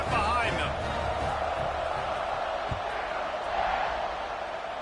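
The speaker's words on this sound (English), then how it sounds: "They're set to kick it off, and this crowd now ready to get behind them" A football stadium crowd at a Kansas State versus Baylor game roaring steadily before kickoff, a broad, sustained wash of cheering with a commentator talking over it.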